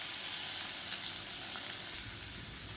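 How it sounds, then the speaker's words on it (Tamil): Chopped onions with mustard seeds and curry leaves fry in hot oil, making a steady, loud close sizzle that hisses evenly throughout with no voices over it. "இப்போ எண்ணெய் சூடாயிருச்சு. கடுகு, சீரகம், வெந்தயம், உளுந்து சேர்த்துக்கலாம்."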